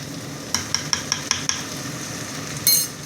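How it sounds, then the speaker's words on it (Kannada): A spoon stirs turmeric into hot oil in a pan for a soaked puffed-rice tempering, tapping the metal rim six times in a steady rhythm over a faint sizzle, then one brighter clink. "ಅರಿಶಿನ ಹಾಕಿ ಕೈ ಆಡ್ತಿದ್ದೀನಿ."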